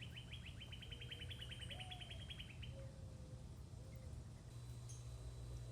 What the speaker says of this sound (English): We get lots of these pine warblers in the yard too